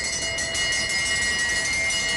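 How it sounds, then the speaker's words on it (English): A lap bell rings at the 2023 UCI Track Cycling Nations Cup in Cairo, a loud, continuous, shimmering metallic ring that sustains steadily throughout with no speech. "Right, the bell goes."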